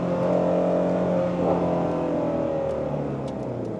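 A Shelby GT350R revs and accelerates on a country road, a steady loud engine drone heard from inside the car that sweeps in pitch and then eases off slightly.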